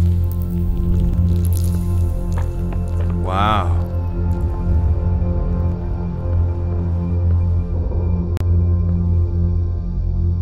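A zombie in the video game Estranged: Act 1 lets out a brief wet, squelching growl over a constant droning game ambience, with a person speaking briefly.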